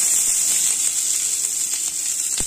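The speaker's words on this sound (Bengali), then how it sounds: "তো তেল দিয়ে দিয়েছি, তেলটা গরম হয়ে গেছে। এবার দেব পেঁয়াজ কুচি।" Chopped onions hitting hot oil in a pan, cooked with only a little oil, give a steady, close hiss of sizzling with faint crackles throughout.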